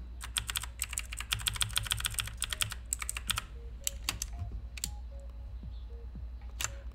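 Fast typing on a computer keyboard while entering text in Microsoft Word, a dense close clatter of keys for about three seconds, then scattered single keystrokes over a steady low hum.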